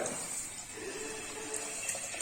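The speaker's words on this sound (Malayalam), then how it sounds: "അപ്പൊ രണ്ടാം പാല് ഒഴിക്കാം രണ്ടാം പാല്" Thin second-extract coconut milk pours steadily into a pot of sweet potato curry for a couple of seconds, a continuous close gushing with no talk.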